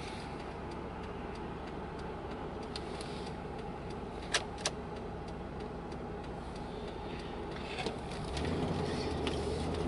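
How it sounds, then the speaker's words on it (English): Road traffic heard from inside a car, a steady low rumble of passing vehicles with a couple of sharp ticks and a deeper engine drone rising near the end, fairly faint and without talk. "there's so much traffic on this road that crossing it is a challenge"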